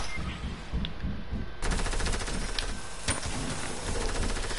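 Rapid burst gunfire crackles in a video game shooter match, dense repeated shots filling the clip with a steady rattling texture, close and loud over game ambience.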